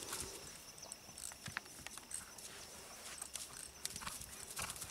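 A pinto overo horse's hooves clip-clop in a loose walking rhythm, sharp individual strikes on firm ground amid faint outdoor background noise, fairly quiet and close.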